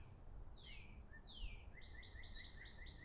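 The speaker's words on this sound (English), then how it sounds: "When you hear the birds," Birds singing outdoors in the morning, faint and distant: a few sweeping whistles, then a quick repeated chirping trill over a quiet background, with no talk.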